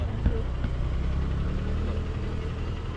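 Car engine idling with a steady low rumble that creeps faster on its own, heard from inside the vehicle under ongoing conversation.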